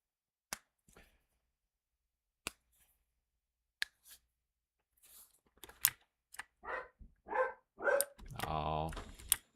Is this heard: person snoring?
no